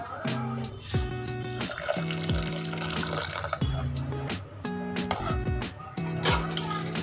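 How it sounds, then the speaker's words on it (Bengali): Hot water is poured into thick, cooked dal makhani, a soft, splashy trickle and gurgle of liquid filling the pot against steady background tones. "এর মধ্যে আমি কিছুটা পরিমাণে গরম জল মেশাবো।"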